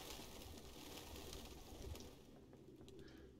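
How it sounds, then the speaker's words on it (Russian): Pigeons coo faintly in a crowded nest area within the video game Detroit: Become Human, their low murmuring blending into a steady ambient hiss with no talking. "Блин, сколько голубей-то тут."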